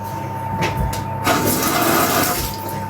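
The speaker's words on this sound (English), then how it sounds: "So just run it under the tap really quickly" Cold water from a kitchen tap runs steadily over a knife blade, a loud continuous splashing rush that swells slightly midway, with no voices.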